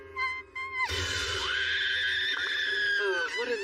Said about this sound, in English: I've heard this cat-like scream before.